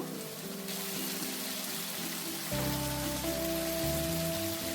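Masala and peas for a vegetarian paneer dish sizzle and are stirred in a hot pan, a close, steady crackling hiss that grows fuller about halfway through as the pan gets busier.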